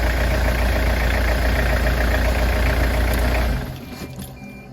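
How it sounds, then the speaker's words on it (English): A car engine idling with a vacuum leak, a steady close rumble with a hissy, rough texture that drops away sharply near the end. "Sounds like a damn vacuum leak."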